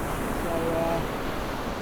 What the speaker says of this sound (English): waiting for the waves just to come up as well now